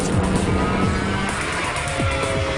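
Mercedes cars racing around the Silverstone circuit, engines roaring close by with quick sweeping pitch swoops as cars pass and shift, a dense continuous racing din.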